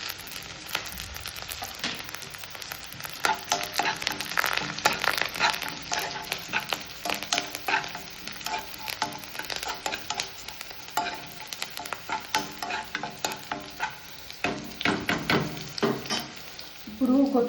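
Cumin seeds frying in hot oil for upma, with a dense, continuous crackling sizzle and rapid popping that rises and falls, along with occasional stirring scrapes close by.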